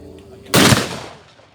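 A single close, loud gunshot from a WWII reenactment weapon fired on command cracks sharply and then decays into a brief echoing tail.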